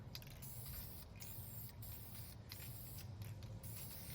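Primer hisses from an aerosol paint can onto a Ford Fusion bumper in short bursts of spray separated by brief pauses, quiet and close, with no voices.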